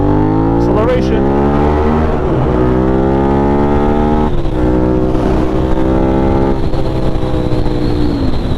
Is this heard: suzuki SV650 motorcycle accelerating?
yes